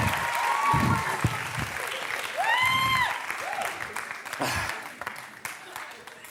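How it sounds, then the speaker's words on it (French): Audience applause during a French television show, clapping from a crowd broken up by loud whistles, shouts and cheering voices, rising and falling over several seconds. "On l'applaudit."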